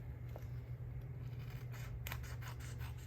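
Scissors snip away excess cardstock while trimming a Stampin' Up! Christmas card panel, a few soft close cutting and sliding strokes over a steady low hum.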